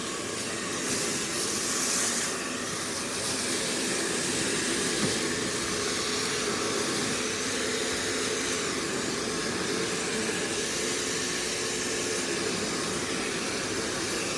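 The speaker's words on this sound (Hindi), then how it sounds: "अभी मैंने इसकी हीट नहीं चलाई हुई, हीट वाला बटन ये ऊपर वाला है, 1 2 हीट नहीं चलाई, सिर्फ ब्लोअर चलाया हुआ है।" An electric hair dryer runs on blower only with the heat off, giving a loud, continuous airy whoosh and motor whine that holds steady throughout with no talking.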